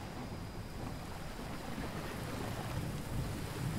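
Rain falls in the survival game Under A New Sun as a steady, dense wash of noise with a low rumbling undertone, even and moderately quiet, with no other sounds over it.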